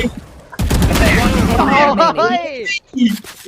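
Rapid bursts of gunfire in the tactical shooter game Valorant crackle loudly in the first half, then fade under excited overlapping talk from players.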